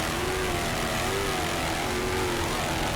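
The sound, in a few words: helicopter flying over Miami Beach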